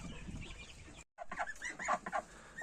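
Chickens cluck and chatter nearby in a short burst, broken by a brief silent gap, with farmyard background noise throughout.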